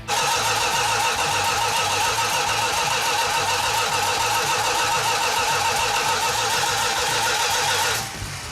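Classic V8 muscle car engine cranking hard and continuously at close range, a loud steady churning rhythm for about eight seconds before it cuts to a quieter tone near the end.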